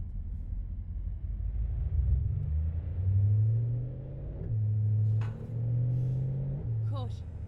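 A heavy truck in American Truck Simulator, the Jon Ruda FreightShaker Coronado SD, drives with a steady low engine rumble that rises and falls through several gear changes, loud and close, with no talk over it.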